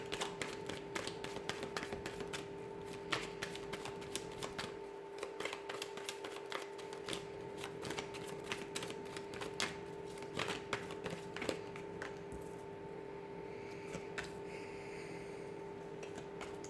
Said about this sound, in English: So I'm going to give the cards a shuffle here